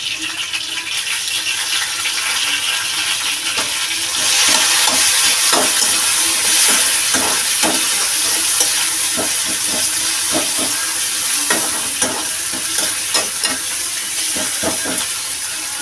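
Onions and tomatoes sautéing in a pan for a cowpea curry, with a loud continuous sizzle broken by repeated scraping stirs of a spoon, close up and without talk.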